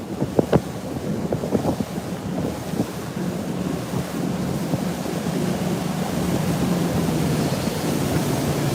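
A bass fishing boat cruising on Lake Lanier: a steady engine drone under rushing wind and water, loud and continuous after a few early knocks, with no talking.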